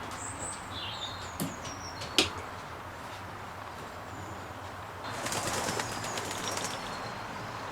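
Racing pigeons fill a stock loft, with soft cooing, a few sharp chirps and occasional wing flaps over a quiet background, and brief fluttering near the end.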